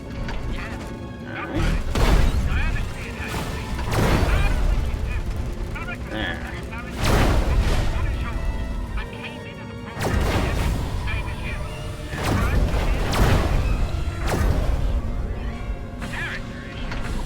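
Tanks fire a barrage in the video game Destroy All Humans! 2, with heavy booming blasts every two to three seconds over a constant din of battle.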